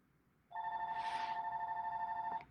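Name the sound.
mobile phone ringing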